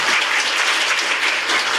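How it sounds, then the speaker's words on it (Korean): Steady applause from an audience at a Korean National Assembly policy forum on healthy life expectancy, continuous and evenly dense for under two seconds, with no voices over it. "앞으로 큰 박수로 함께 모시겠습니다."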